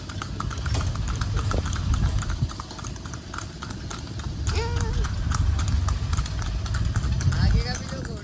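Horse hooves clip-clop steadily from a horse-drawn tonga cart on a Mumbai street, a brisk even rhythm running throughout amid traffic and street bustle, with people talking nearby.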